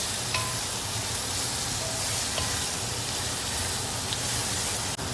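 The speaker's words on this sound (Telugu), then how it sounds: "ఇప్పుడు దీంట్లో నేను పచ్చి రొయ్యలు వేస్తున్నాను" Raw shrimp fry with onions in a pan for Andhra-style shrimp curry, giving a steady, even sizzle and hiss throughout with no pauses.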